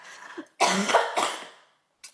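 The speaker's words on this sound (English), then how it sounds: "Coughing fit." A close, harsh coughing fit: two or three heavy coughs in quick succession, then a brief faint cough after a pause.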